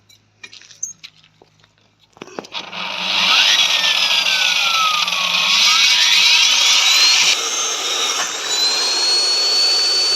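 A few light knocks and rattles, then a core cutting machine starts up with a loud, steady grinding whine that keeps running, its pitch rising and falling as it bites into the wall.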